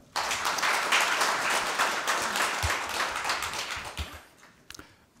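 An audience at a policy forum on spinal cord injury rehabilitation claps for an arriving speaker, a full round of applause that starts abruptly, then thins out into a few last scattered claps.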